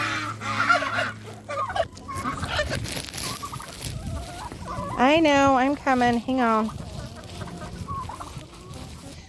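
Backyard chickens and turkeys clucking and gobbling while being fed, a run of loud rising gobbles in the middle, with a person talking nearby at the start.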